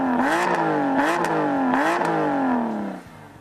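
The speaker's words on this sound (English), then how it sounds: "I'm going to start it up." Aston Martin Vanquish V12 engine fires up and revs loudly, with three rising-and-falling revs in quick succession before settling to a lower idle, heard close with no talk.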